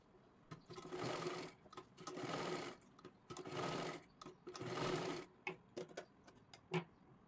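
Sewing machine stitching elastic and fabric into a hair band at home, running in several bursts of about a second each, separated by short pauses and light handling clicks.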